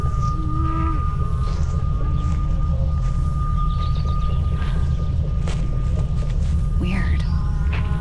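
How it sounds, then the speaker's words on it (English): A distorted humming melody plays from an old gramophone record in the game Tangle Tower, a wavering tune over a loud, rumbling hiss, with a voice speaking briefly. "A distorted, humming melody can be heard."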